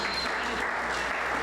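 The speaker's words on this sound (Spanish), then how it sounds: "Le damos un aplauso a Adriana, por favor, que se anime" A church audience applauds a volunteer, a dense, steady wash of many hands clapping at moderate loudness with no gaps.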